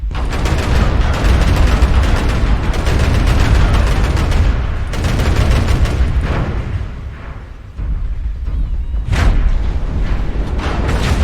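Dense gunfire in a video game, loud rapid bursts and booms that fill the first half, then thin out into scattered shots and a sharp blast near the end.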